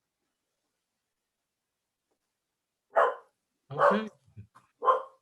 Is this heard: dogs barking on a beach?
yes